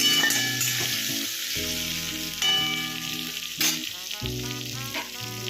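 Potatoes dusted with turmeric fry in a pan for a fish curry, producing a loud, continuous close-up sizzle with occasional stirring. Tonal background music plays throughout.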